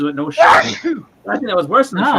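A single loud, sudden sneeze bursts out in the middle of a man's conversational speech, with talking continuing right after it.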